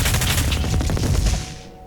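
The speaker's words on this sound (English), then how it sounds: "You can switch to micro missiles and just spray missiles at things" Micro missiles from the heavy cannon fire in Doom Eternal, a loud rapid burst of launches and blasts that rattle on for over a second before trailing off into a fading rumble.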